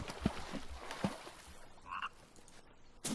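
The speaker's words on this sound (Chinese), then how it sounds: "青蛙叫。" Frog croaking by a small pond in The Forest survival video game on hard mode: a few brief, fairly faint croaks scattered among soft ambient game sounds.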